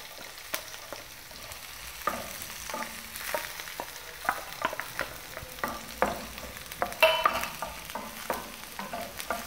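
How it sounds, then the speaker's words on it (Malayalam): Finely chopped garlic frying in a pan with green chillies for gobi manchurian, a soft continuous sizzle punctuated by frequent light stirring taps and scrapes. "ചെറുതായിട്ട് അരിഞ്ഞു വെച്ച വെളുത്തുള്ളി ഇടുകയാണ്"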